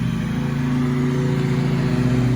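Husqvarna MTZ 52 riding mower engine running steadily at close range, a constant loud motor drone with no pauses or talk.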